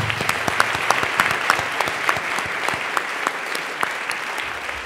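A convocation audience applauds steadily and fairly loudly, a dense patter of many hands clapping throughout.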